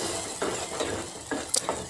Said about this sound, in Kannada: ಈಗ ಅರ್ಧ ಟೇಬಲ್ ಸ್ಪೂನು ಅಚ್ಕಾರದ ಪುಡಿ, ಸ್ವಲ್ಪ ಬೆಲ್ಲ ಹಾಕಿ ಚೆನ್ನಾಗಿ ಮಿಕ್ಸ್ ಮಾಡಿ